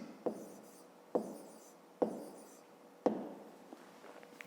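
Numbers are written by hand on paper, heard as four distinct pen taps, each followed by faint scratching strokes, spaced about a second apart, close and quiet.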